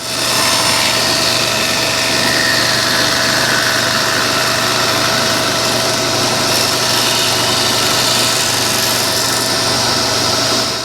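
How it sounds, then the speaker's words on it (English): A table saw cuts a V-groove along a wooden dowel pushed against the fence in a cabinet-making shop, a loud, steady motor whine running continuously with no pauses and no voices. "push the dowel along the fence without getting my fingers too awful close to the blade there"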